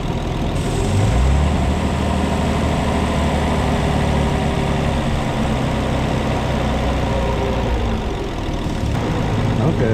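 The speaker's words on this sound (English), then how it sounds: "Now when we plug this in, the idle should raise a little bit." A turbocharged Nissan 300ZX sits at a steady, continuous idle, its low engine drone holding evenly close by with no voices over it.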